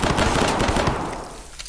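Rapid automatic gunfire pours out nonstop in a spelunking horror video game, a dense, loud burst of shots that carries on for the whole moment and then tails off slightly.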